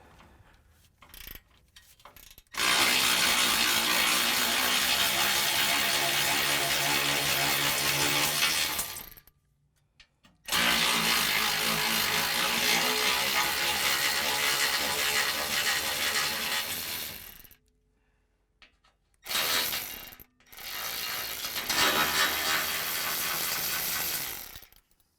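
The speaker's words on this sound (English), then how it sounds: "break loose the 4 bolts that are holding in the lower skid pad" A ratchet wrench loosens the bolts on the lower skid plate of a 2009 Ram 1500, giving long bursts of rapid clicking close up, separated by short pauses and a few shorter clicking runs.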